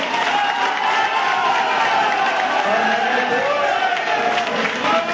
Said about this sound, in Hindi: आज जितने भी लोग हैं एक बार ताली बजाकर इस बात का समर्थन कर दें।